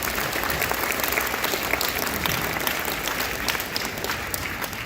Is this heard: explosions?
no